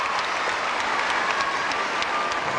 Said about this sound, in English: a little applause as the lead hits 5